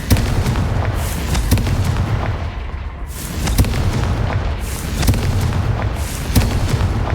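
Confringo fire spell blasts in Hogwarts Legacy, with repeated deep booming explosions and crackling bursts at close range, loud and rolling, with no talk.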